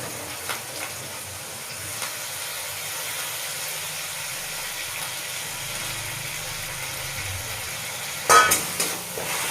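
Tomato sizzling and frying in a pan, a steady soft crackle with occasional stirring scrapes and a louder clatter near the end.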